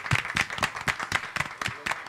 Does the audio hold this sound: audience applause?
yes